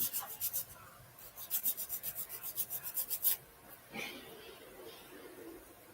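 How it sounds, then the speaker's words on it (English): Quick rhythmic rasping strokes of a small hobby sanding stick on a model steamer kit, close and fairly quiet, followed by a softer scrape and faint background noise. "These sanding sticks work great,"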